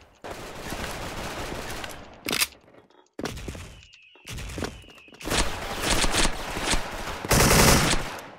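Gunfire in the video game Special Force: rapid automatic bursts and single shots in several loud, dense volleys broken by short pauses, growing heavier toward the end, with faint footsteps between.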